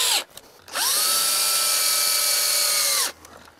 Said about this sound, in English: start a couple screws to hold it in place